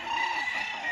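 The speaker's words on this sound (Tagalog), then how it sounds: "Kagandang manok ha." A chicken on Mt. Banahaw gives a short, close, tonal call, alone and clear.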